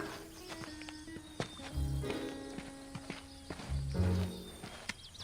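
A few slow hoof clops on hard ground, a horse walking nearby at an unhurried pace over a faint outdoor background.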